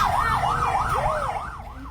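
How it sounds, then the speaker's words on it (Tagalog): Fire truck sirens wail as firefighters arrive at a burning church stock room in Dagupan City, a loud rising-and-falling siren cycling rapidly with a second siren overlapping partway through over traffic rumble. "Maririnig din sa video ang pagdating ng mga bumbero upang apulahin ang sunog"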